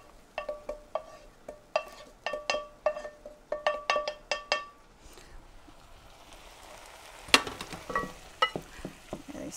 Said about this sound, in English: we're going to put our onions and our peppers into the crock pot